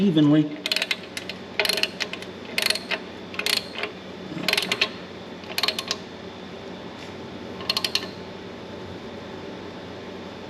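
A ratchet wrench snugs down the cylinder head nuts on a John Deere B tractor. Short bursts of rapid clicking come in bursts of about a second each, close by, with brief pauses between them and a voice speaking briefly.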